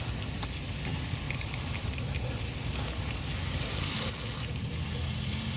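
Steady hose water spraying onto potted garden plants on a hot summer day, a continuous broad hiss with faint splashes and drips, moderately close and alone without voices.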